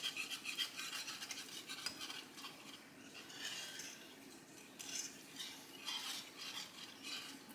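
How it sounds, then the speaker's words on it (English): Broth being whisked into giblet gravy in a pot, a continuous quiet rapid scraping and clinking of the whisk that ebbs and surges for several seconds, with no talking. "I'm going to whisk it so that way it doesn't get lumps."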